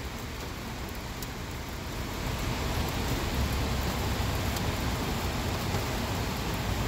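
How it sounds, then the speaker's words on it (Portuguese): Heavy rain pours down steadily in Fortaleza, a dense, even hiss of water that swells slightly partway through and continues without a break. "Chuva forte, porém comportada."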